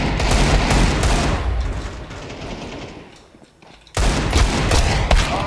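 Desert Eagle pistol fire in a Counter-Strike 2 deathmatch: loud, dense gunfire crackles almost continuously, easing off briefly before a sharp burst of shots resumes.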